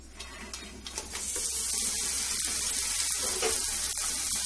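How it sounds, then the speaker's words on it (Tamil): Dosa vadagam drop into hot oil for deep frying, and a soft background quickly swells into a steady, close, bright sizzle that holds without voices. "இந்த வடகம் தோசை வடகத்தை நம்ம போட்டு பொரிச்செடுக்க போகிறோம்"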